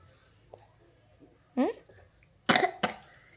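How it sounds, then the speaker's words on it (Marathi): A young girl coughs in a home, a short throaty burst around the middle followed by two louder, harsher coughs near the end, close and distinct against a quiet room. "खोकला लागलाय काय?"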